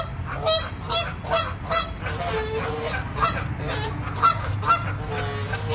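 A goose honks repeatedly on a hiking trail, loud and close, in a run of sharp calls spaced about half a second apart over a steady low background rumble.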